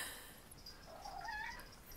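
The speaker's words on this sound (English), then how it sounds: "cat's here again." A house cat meows indoors, a few faint, wavering cries close by over quiet room noise, with a louder sound at the very end.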